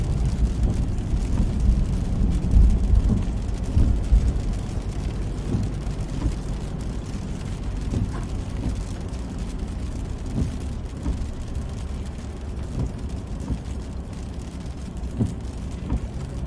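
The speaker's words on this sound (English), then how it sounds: "A little bit of sleet coming down." A little sleet comes down on a truck out on a town street, making a steady, dense patter-like hiss over a low, constant rumble throughout.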